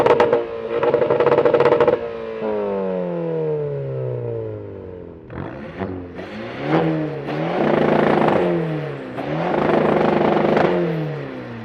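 Two 380 hp hatchbacks, a diesel Skoda Fabia vRS and a petrol VW Golf GTI, revving hard, loud close engine blips rising and falling in pitch, with a long falling whine as revs drop, then repeated surging revs.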